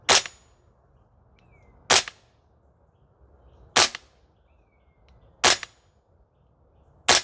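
Sig Spear LT 11.5 gas blowback airsoft rifle fired on a range: five sharp, loud single shots spaced about two seconds apart, each a crisp crack with quiet pauses between.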